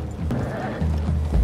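A horse in the video game Red Dead Redemption 2 whinnies and its hooves clop nearby, a short close burst over low ambient rumble.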